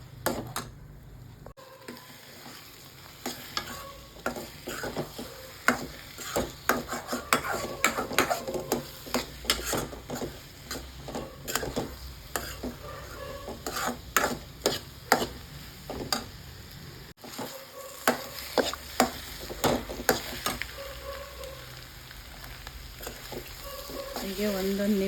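Cauliflower egg bhurji frying and being stirred in a pan, a steady sizzle broken by frequent sharp scraping and tapping strokes of the spatula, loud and close throughout.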